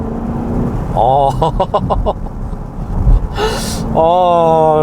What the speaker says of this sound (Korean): 다시 한번 가속 페달을 밟아보면